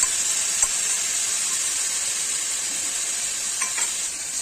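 Soaked ground spice paste hits a hot pan with its soaking water, producing a steady, close, steamy sizzle and hiss with a couple of faint clinks, no voices.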